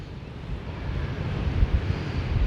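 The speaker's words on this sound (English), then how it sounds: "Oh, there's one of those gusts of wind." A gust of wind roars during a winter blizzard with high winds and snow, a steady broadband rush that swells slightly over a couple of seconds.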